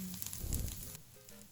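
Chopped garlic and peeled lemon skin fry in margarine in a pan, giving a soft, steady crackling sizzle at low volume that thins out partway through.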